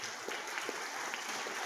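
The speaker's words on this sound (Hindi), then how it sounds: "अपने अपने बच्चों की प्रस्तुति के लिए एक बार जोरदार तालियां बजाई जाए" Parents at a school annual function applaud their children's performance, a dense wash of clapping hands filling the short span at steady volume with no voices standing out.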